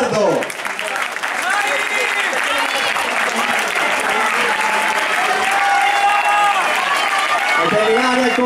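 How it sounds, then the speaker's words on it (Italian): Spectators at an 800 m athletics race in Gavardo applaud continuously as runners pass, a loud, steady crowd clapping with some cheering, while a commentator's voice runs over it. "Marta Milani che ha rotto gli indugi e ora al comando con l'applauso del pubblico di Gavardo."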